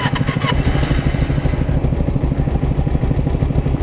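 A 2009 Kawasaki Ninja 250R Limited Edition motorcycle idles low and steady close by, its engine putting out an even, throbbing rumble with a light clatter throughout.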